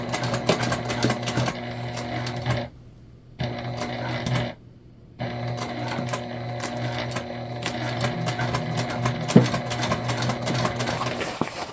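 Sewing machine stitching a bag panel from the top side, a steady mechanical whir with regular needle clatter, stopping briefly twice before running on continuously.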